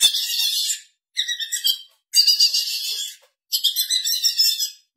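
High-pitched electronic predator call for coyotes, tweeting in four bursts, each a rapid warbling trill, loud and close with short silent gaps between.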